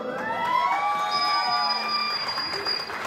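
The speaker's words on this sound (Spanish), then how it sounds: "Fuerte el aplauso." A quinceañera crowd at an event center applauds the birthday girl and her mother, with steady clapping and some cheering and children's shouts, while tones from background music run underneath.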